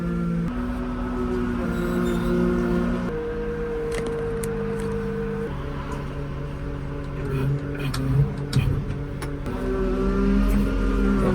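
A loaded grain lorry carrying Capulet beans pulls away on a farm, its engine a steady low drone with shifting gear tones, fairly loud and continuous, with a brief louder burst near the end.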